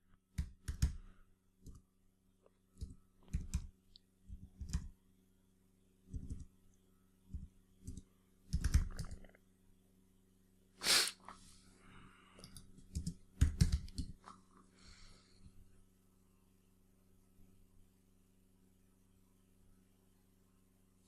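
Someone types on a computer keyboard in irregular clusters of clicks, with quiet gaps between bursts and a faint steady hum underneath.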